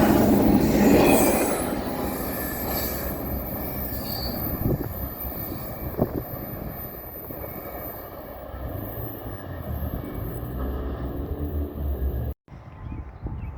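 A Norfolk Southern hot mail freight train rolls past at close range, loud and steady, with wheel squeal and rumbling railcars throughout before the sound cuts off sharply near the end.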